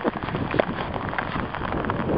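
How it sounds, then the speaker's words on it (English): Steady rain falling outdoors in autumn weather, a constant even hiss of drops pattering on surfaces, moderately loud and continuous, with no voices. "Rain."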